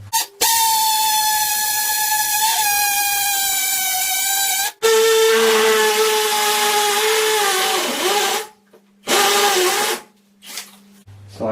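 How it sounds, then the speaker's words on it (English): A power drill boring into a steel bar or wall while a Cookology extractor hood is installed above a cooker, a loud, sustained high whine that shifts pitch as it bites, stops, restarts and cuts out in short bursts near the end. "So I drilled a hole into something, I don't know, some steel bar or whatever."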